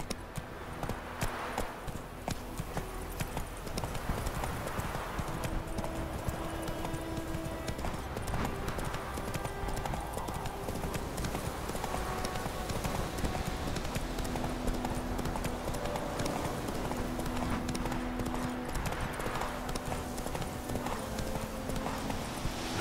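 Roach the horse gallops in The Witcher 3, a steady rapid clip-clop of hooves running throughout over a bed of game music, with an occasional faint snort or whinny.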